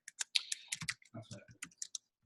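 Fingers tap out text on a computer keyboard in a quick irregular run of crisp clicks, close and fairly quiet, with no talking.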